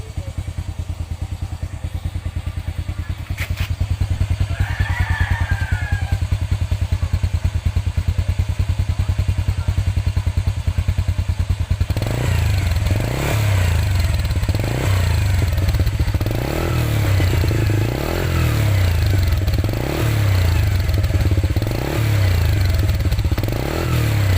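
Honda Wave 100 motorcycle with a smoky engine awaiting a top overhaul, idling with a steady putter, then revved repeatedly in rhythmic surges, loud and close.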